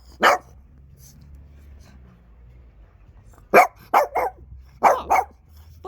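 Several dogs barking in short bursts, one isolated bark near the start followed by a cluster of sharp, fairly close barks later on, with quiet low rumble between them.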